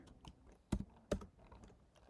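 Computer keyboard typing, a soft run of quiet keystrokes broken by two louder, sharper key hits, close and without talk.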